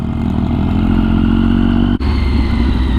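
A motorcycle being ridden, its engine droning loud and close with a steady rumble, a brief dip and break around the middle before the engine noise resumes at full level.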